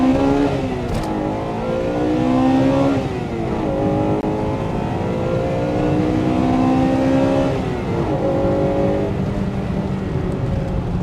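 A Honda Integra Type R DC2 with the B18C6 engine accelerates hard from first gear, its engine note climbing in steady rising sweeps with brief dips at the gear changes, loud and close with no talk.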